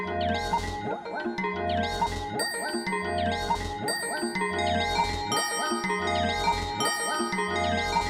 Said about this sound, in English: how about I add FM tubular bells?